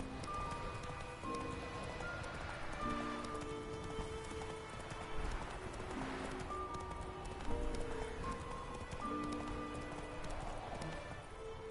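Roach the horse gallops in The Witcher 3, a steady rhythmic clatter of hoofbeats running on under a soft musical background.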